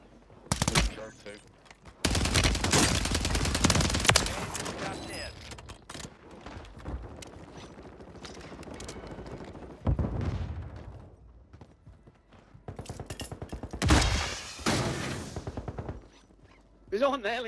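Gunfire in Call of Duty Warzone 3 with a COR-45, loud bursts of rapid shots in several clusters separated by quieter stretches, with voices talking in between.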